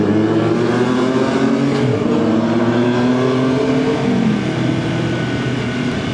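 A quiet motorcycle ridden along a road in San Fernando, Pampanga, Philippines. A steady engine hum rises and falls through gear changes and is heard up close, with no talk.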